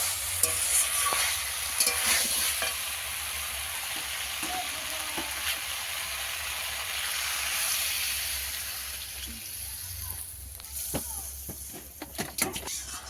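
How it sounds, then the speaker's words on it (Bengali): Water poured into a sizzling pumpkin and potato curry in a pan, with stirring and frying hiss, a surge of bubbling and steam, then renewed scraping strokes toward the end. "এবার আমি জল দিয়ে দেবো এতে।"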